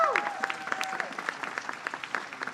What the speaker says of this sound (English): Let's give her a strong round of applause